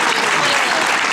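A brief burst of thick crowd clapping at the finish of a 10K race on Illa de Arousa, loud and continuous as the winner comes in, with faint voices mixed beneath.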